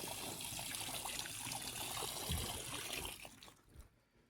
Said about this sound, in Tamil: தண்ணி வேறு பக்கம் போயிட்டுருக்குதுங்க.